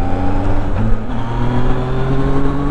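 A Zontes 703F motorcycle engine runs at a low, steady drone with the clutch held at its friction point, the rumble loud and close with slight shifts in pitch and no talk.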